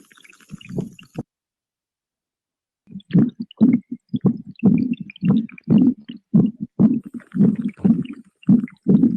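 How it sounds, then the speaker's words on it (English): A steady run of low, thumping heartbeat pulses, regular and close, starting after a brief opening bump and a short silence. "that's the sound of a heartbeat"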